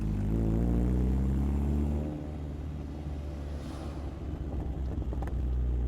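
A Chevrolet engine holds about 2,000 RPM in second gear, giving a steady, deep exhaust burble with a rich low drone that eases slightly partway through, and a faint crackle near the end.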